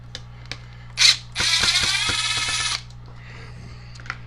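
A powered screwdriver ratchets screws out of a Harbor Freight chainsaw during a teardown, a close, loud whirring buzz lasting about a second and a half, framed by small clicks and taps of handling.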